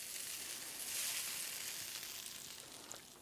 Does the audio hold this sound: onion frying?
yes